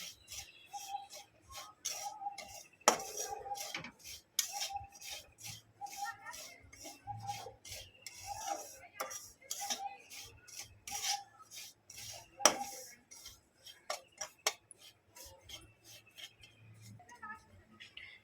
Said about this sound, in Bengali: হালকা করে একটু ভেজে নেব সুজিটা